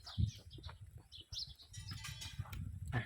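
Tailorbirds chirp repeatedly in short, high calls over a low background rumble, with some soft fluttering.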